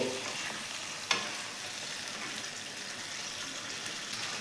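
Kashmiri aloo dum (spiced potatoes) cooking with garam masala and ghee, a soft steady sizzle close by with a single sharp clink of a spoon near the start.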